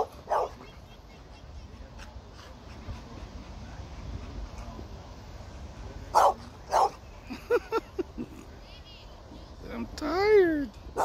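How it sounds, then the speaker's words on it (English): Dogs give a few short barks and yips outdoors, with whimpering and a voice nearby amid rustling movement. "See the dogs run back."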